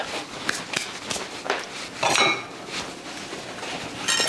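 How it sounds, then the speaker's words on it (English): Metal utensils clatter and clink in a kitchen while someone fetches a small whisk, a string of sharp jangles and rattles at close range with footsteps moving about and no talking. "let me get my little whisk"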